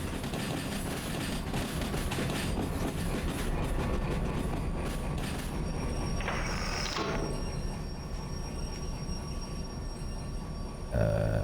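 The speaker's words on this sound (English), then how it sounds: "Oh, the train is speeding up" Train rumbling along the rails in the simulator Derail Valley, a steady loud mechanical roar with clattering wheels and a brief rising whine near the middle, continuous throughout.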